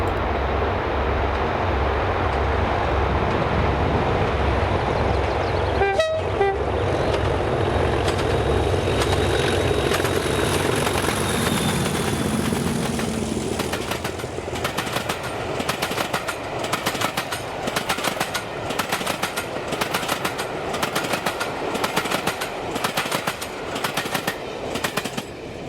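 A Class 37 locomotive, 37422, leads a train on the West Highland line near Lochan Na Bi, its diesel rumble passing close with a sharp burst, followed by a steady rhythmic clickety-clack of wagons rolling by.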